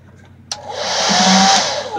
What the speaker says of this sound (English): we're gonna take our hair dryer here and keep heating it up and hopefully it'll thaw out